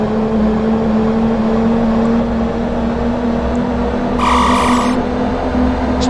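In a driving video game, a car engine holds a steady, loud electric-sounding whine as it accelerates toward about 160, with a brief bright electronic tone cutting in partway through.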